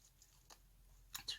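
Close, crunchy bites into fried chicken: one soft crunch early on, then two quick, louder crunches near the end, with no talking.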